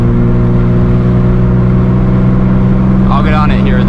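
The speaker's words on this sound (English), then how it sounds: "it's going to be pretty hard for you guys to hear me with the noise of the wind and the car itself" A loud, steady engine drone with a low hum and constant wind rush from a stock Nissan 350Z driven hard on back roads; a brief voice-like sound near the end.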